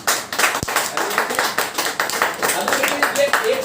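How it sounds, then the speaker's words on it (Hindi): An audience claps through a seminar-style talk on a business plan, a short burst of close, dense applause with a voice speaking over it. "तो ताली होनी चाहिए।"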